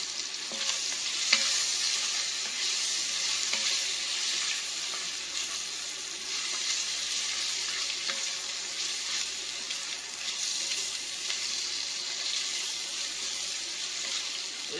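Clam chowder cooks in a pot with a steady, close sizzling and bubbling hiss that holds even and unbroken throughout, with faint occasional clinks.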